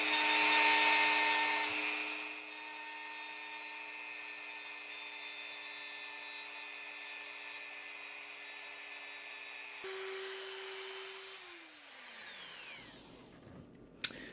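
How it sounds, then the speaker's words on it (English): A Dremel rotary tool grinds an action figure with a steady high whine, louder at the start, then spins down near the end as the motor winds off. "when I'm using the Dremel, I don't want to apply too much pressure or I could lose control."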